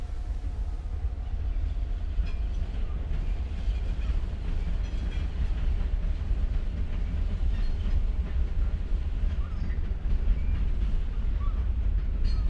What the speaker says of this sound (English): big old heavy metal trains rumbling by, like with mysterious cargo